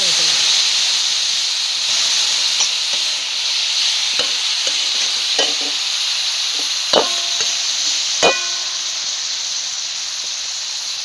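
A steady, loud sizzling hiss as water is splashed into a hot pan of vada pav masala, carrying through the whole stretch, with a few sharp clicks and scrapes of utensils.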